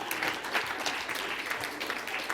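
An audience at the AAU Sullivan Award ceremony gives a round of applause, a fairly quiet, steady patter of many hands clapping, heard from a distance with no voices over it.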